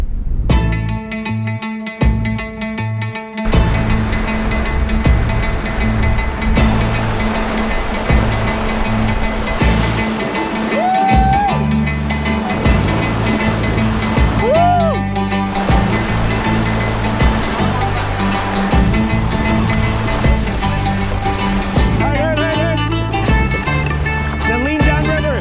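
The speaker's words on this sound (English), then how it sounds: "we're really trying to savor this set of rapids" Rapids on a remote Arctic river in Nunavut on the way to Bathurst Inlet: a steady, loud wash of rushing water running the whole time, mixed with music.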